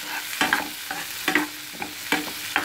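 Tomatoes are stirred into chilli beef in a frying pan, a soft sizzle beneath about six rhythmic scraping strokes of a utensil, close and clear with no voices.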